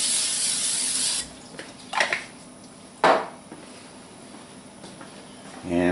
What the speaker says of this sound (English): Put a little bit of spray on it.